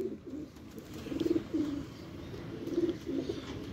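Pigeons cooing at close range in a breeders' loft, with several soft rolling coo phrases in clusters over steady low background noise and no talk.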